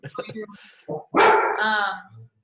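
A dog barks nearby, giving a few short yips and then a longer, loud, drawn-out bark with a whining edge, mixed with people talking in the same room.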